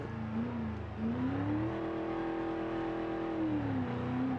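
A 1964 Gavril Bluebuck 353 car engine in a video game downshifts, its steady engine tone dipping and then climbing as the revs rise and hold before easing off again, heard alone.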